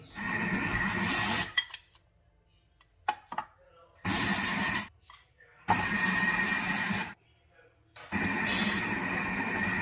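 A stand mixer kneading panettone dough while sugar is added gradually, running in loud whirring bursts broken by quiet gaps with scattered clinks and small knocks.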